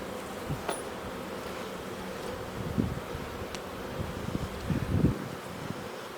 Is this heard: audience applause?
no